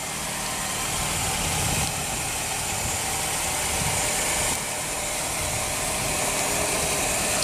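A 2014 Nissan Rogue with a 2.5-liter dual overhead cam four-cylinder engine idles steadily close by, a smooth continuous hum with no voices over it.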